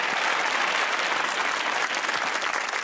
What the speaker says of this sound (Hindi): ताली होनी चाहिए सर की।